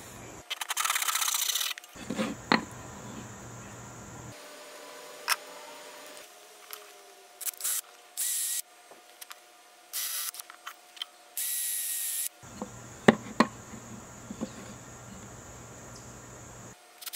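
Hand-sawing a piece of wood about 6 inches wide to length for a worm composter, heard as bursts of rasping strokes separated by quiet pauses, close and moderately loud.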